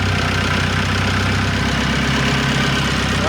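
A car engine runs at a loud, steady idle close by, with a low rumbling drone throughout and a slight change in tone near the end. No voices.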